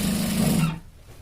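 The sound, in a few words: sewing machine stitching a shirt collar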